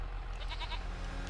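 Goats and sheep bleating faintly in the farming video game Farming Simulator 25, a brief cluster of short bleats over a low steady game background hum.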